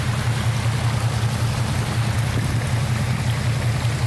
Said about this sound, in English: There was a lot of water that came down this waterfall this year.